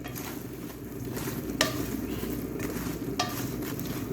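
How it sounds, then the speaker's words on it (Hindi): Bread pieces stirred into melted sugar in a pan for Hyderabadi double ka meetha (bread halwa), giving a steady close sizzle and scraping with two sharp metallic clinks against the pan, no talking. "मैं सारी जो रोटियाँ हैं वो इसके अंदर डाल दूँगी।"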